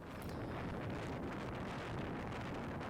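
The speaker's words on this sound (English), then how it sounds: "It was just so windy that day, and you can just feel the power of the wind in this footage." Strong wind roars and buffets the microphone in a constant, loud rumble with no other sounds, on North Uist in the Scottish Outer Hebrides.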